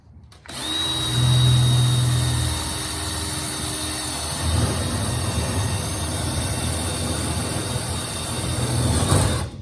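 A power drill whines up to speed, then grinds steadily through metal for several seconds, drilling a pop-rivet hole for a toolbox on a Peterbilt 351 truck, before spinning down, close and loud.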